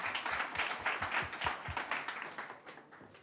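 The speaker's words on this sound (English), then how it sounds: "let's give a round of applause to these fabulous panelists" Applause for a panel at a Small Business Week event in New York: a quiet, distant room of clapping that swells briefly and then fades away.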